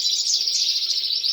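Canaries sing in a bright, continuous warbling trill, steady and close, with no voices.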